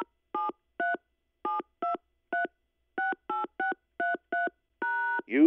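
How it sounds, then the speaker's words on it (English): A phone keypad enters a number: about a dozen clear touch tones beep in short bursts with uneven gaps, then one longer tone at the end, standing alone in silence. "If you know the Schickele number of the work you wish to hear, please enter it now"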